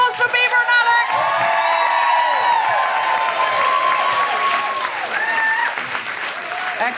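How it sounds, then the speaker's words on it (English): Loud audience applause and cheering with whoops at a live comedy podcast recording for International Women's Day, sustained for several seconds with excited voices rising through the clapping. "Can we have a big round of applause for Beaver and Alex?"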